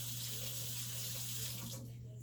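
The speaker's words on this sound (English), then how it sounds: "Once the shell's off, then I would run it under cold water" Cold tap water pours steadily into a kitchen sink as a peeled hard-boiled egg is rinsed under it for egg salad, a continuous soft rush with a low hum behind it.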